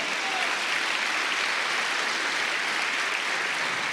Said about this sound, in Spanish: Vamos, dele palmas al Señor.